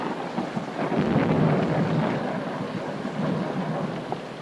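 Heavy rain pouring with rolling thunder rumbling through it, a dense continuous wash of noise swelling and easing over a few seconds, loud and close with no voices.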